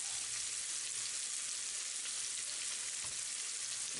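Tomatoes sautéing in a pan give a faint, even hiss of frying that runs steadily throughout without pauses or voices.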